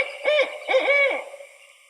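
A recorded owl hooting call: two quick rising-and-falling hoots close together, clear and fairly loud, then a fading tail with no voices.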